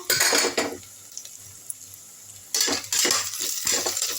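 Onions for chicken biryani sauté in a pressure cooker, with bright metallic scraping and clanks of a utensil against the pot in bursts over a faint low sizzle, close by and without talk.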